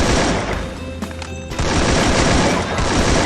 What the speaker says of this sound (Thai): ผมโดน M14 ยิงฮะ